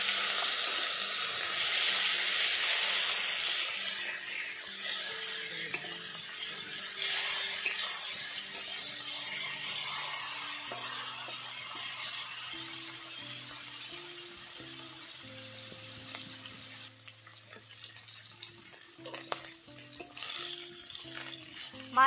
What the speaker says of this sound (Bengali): মাছগুলো উল্টে পাল্টে লাল করে ভেজে নিয়েছি